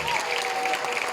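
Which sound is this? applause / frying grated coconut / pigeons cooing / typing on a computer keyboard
applause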